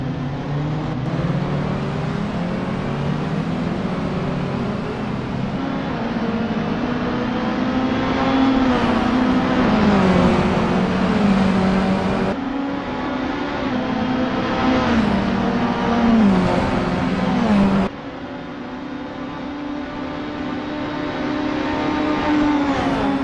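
A Mini Cooper JCW race car in Assetto Corsa on an outlap at Circuit Gilles Villeneuve, engine droning close and loud as it climbs through revs, with sharp drops at gear changes and steady running in between.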